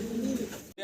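Pigeons cooing softly at a pigeon farm, a low rolling coo that swells and fades within a brief moment before a short gap.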